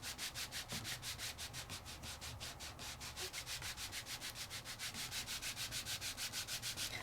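A felt ink pad is rubbed back and forth over a 3D embossing folder in a fast, steady, even rhythm of close, scratchy swishing strokes that continue without pause.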